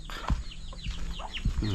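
A chicken, tethered so it won't wander, clucks close by in short, soft bursts, with a few low thumps between clucks.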